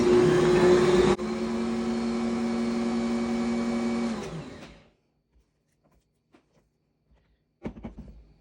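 An electric mixer runs loud and steady for about four seconds, its motor hum dropping in pitch partway through, then winds down into silence before a short clatter at the end.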